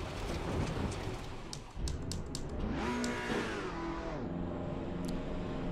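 A race car engine in a racing simulator video game revs up and then falls back, its pitch sweeping upward and down over a continuous low hum at fairly low volume, with brief clicking sounds.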